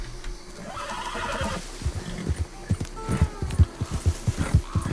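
A horse in the video game Red Dead Redemption 2 lets out a loud, shaky whinny, followed by a string of clip-clopping hoof steps that grow more distinct toward the end.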